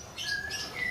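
Songbird chirping in a brief burst of high, thin calls, a kept bird of the sort raised for song contests, near and moderately loud over low background noise.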